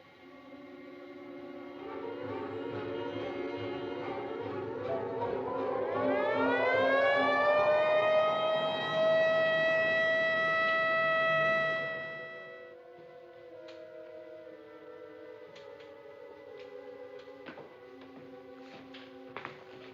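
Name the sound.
ambulance siren in a film trailer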